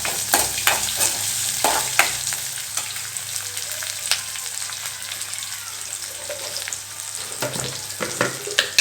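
Small onions and curry leaves sauté in oil in a pan for pumpkin poriyal, with a close crackling sizzle punctuated by repeated scraping stirs of a spoon.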